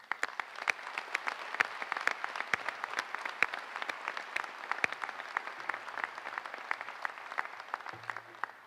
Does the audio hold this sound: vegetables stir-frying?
no